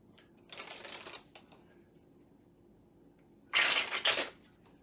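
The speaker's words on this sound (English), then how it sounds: "Let's see if I can do a couple of fancy ways to shuffle." Two short bursts of playing cards being riffled close up, separated by a quiet pause, the second louder.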